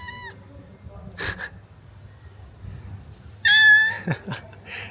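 A cat meows twice, a brief call at the start and a louder, drawn-out one later, with soft human sounds in between.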